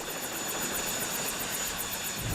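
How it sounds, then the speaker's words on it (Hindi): Steady, loud rotor-and-engine roar of a helicopter, continuous and close, with a high whine running throughout and a rhythmic chop in the upper range. "वो हेलीकॉप्टर।"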